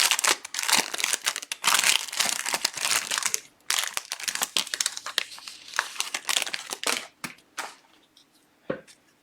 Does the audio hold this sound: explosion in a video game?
no